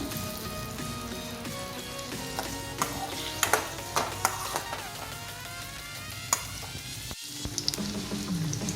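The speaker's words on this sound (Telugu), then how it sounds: "లైట్గా కలర్ వచ్చే వరకు పన్నీర్ వేయించుకుంటున్నాను." Paneer cubes frying in a pan, a quiet steady sizzle with scattered light crackles and occasional clicks of stirring, close and continuous.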